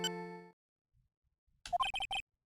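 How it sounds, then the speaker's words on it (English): A phone ringtone goes off in the Phoenix Wright: Ace Attorney - Trials and Tribulations video game, a sustained tonal chime at first, then after a pause a short rhythmic burst of four or five bright electronic beeps, clear and close. "What kind of ringtone is that?"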